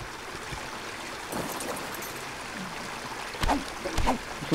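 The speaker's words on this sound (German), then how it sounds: "Hier ist der Wasserfall." Waterfall splashing out of a rock in the game ARK: Scorched Earth, a soft continuous trickle and patter with a few louder splashy bursts toward the end, no speech.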